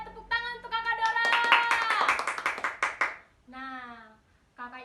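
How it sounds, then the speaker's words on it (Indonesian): Children at a Sunday school gathering clap together in a dense burst of hand claps, with sung or spoken voices over it before and after. "Tepuk tangan untuk Kakak Dora."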